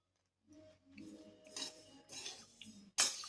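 Sesame seeds roasting for til and mawa laddoos are stirred in a pan with a spoon, giving soft scraping and a few metallic clinks, quiet and close, ending in a sharper clink.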